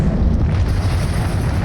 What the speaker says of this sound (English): Let's just see how cool a repulsive missile is.